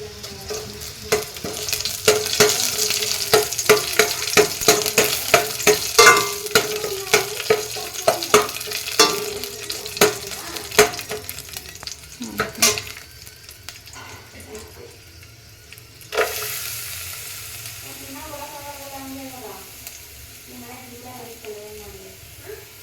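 Garlic, curry leaves and green chilies stir-fry in a hot pan with loud sizzling and repeated spoon scrapes. The sizzle settles into a softer hiss near the end, and someone talks over the cooking.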